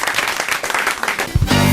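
A studio audience at a French television talk show applauds, a dense burst of clapping under brief talk, ending in a louder swell.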